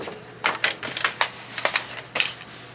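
Scissors cut through a hanging file folder in a quick run of crisp, close snips, about eight sharp cuts in a few seconds.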